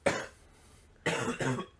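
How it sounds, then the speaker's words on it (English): A pair of harsh, close coughs: one sharp burst, a pause, then a longer double cough, loud and with no talking. "I'm trying to stifle the cough."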